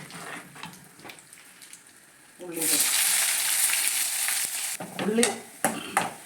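Mustard seeds and curry leaves hit hot oil for a country-style ash gourd curry: a few quiet clinks, then a sudden loud, sustained hiss. Near the end come stirring scrapes and bursts of spitting.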